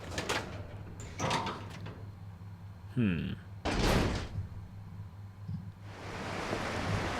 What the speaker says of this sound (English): Is this door locked? No,